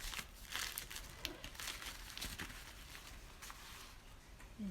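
Tissue paper being folded in half gives a steady, quiet crinkle and rustle with scattered sharper crackles, close up and without voices.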